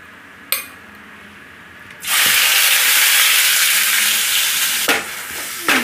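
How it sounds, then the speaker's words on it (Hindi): Onion paste hits hot oil with cumin and asafoetida and erupts into a loud, steady sizzle after a brief tap, holding a broad hiss close by until a stir near the end. "इसमें जीरा डाल देंगे, थोड़ा सा हींग, ये प्याज का पेस्ट बनाई हूँ इसे डाल देंगे।"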